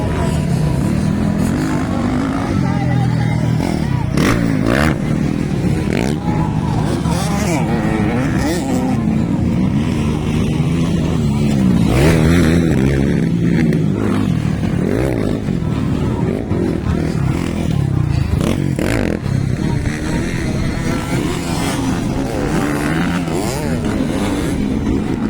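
85cc motorcycles race in a ladies open race, engines buzzing and revving continuously with rising and falling pitch as bikes pass. The sound is loud and busy throughout.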